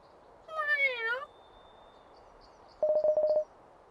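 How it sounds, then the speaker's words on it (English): A black cat in a video game gives a bright, wavering meow, followed after a pause by a quick run of short electronic tones, all close and clear over a quiet background. "Kitty cat."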